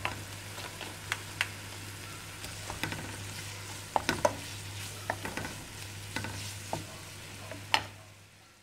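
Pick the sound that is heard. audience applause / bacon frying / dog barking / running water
bacon frying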